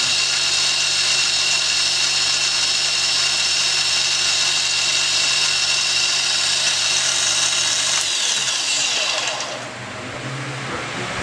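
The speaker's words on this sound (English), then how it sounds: "I have my drill thingy on there, I can use it too." A drill attachment drives the quill feed on a G0704 milling machine fitted with a V-belt drive, producing a loud continuous motor whine that carries on for several seconds before slowing and dropping away at the end.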